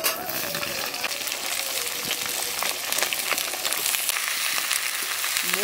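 Potato, cauliflower and peas sizzle and crackle steadily in hot mustard oil with bay leaf, green chili and cumin, a continuous loud frying hiss with occasional pops.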